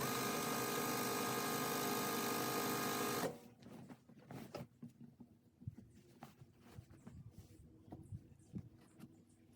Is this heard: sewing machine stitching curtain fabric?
yes